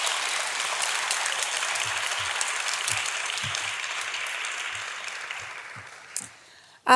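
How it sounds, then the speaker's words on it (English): An awards-ceremony audience for historic preservation design and construction honorees applauds in a steady, even wash of clapping that slowly thins and fades toward the end. "let's just give one more round of applause to our design and construction awardees"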